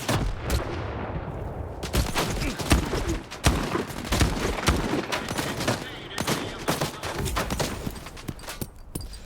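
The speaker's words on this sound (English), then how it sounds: "we were getting shot at a lot" Dense bursts of gunfire and explosive impacts in a combat video game, rapid cracks and heavy thumps piling up continuously, loud and close.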